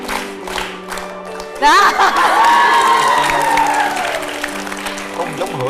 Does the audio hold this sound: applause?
yes